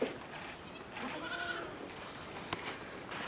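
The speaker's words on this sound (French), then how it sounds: "les chèvres qui arrivent du pâturage" Goats coming in from the pasture, a faint bleat rising over steady outdoor background noise, with a brief knock near the end.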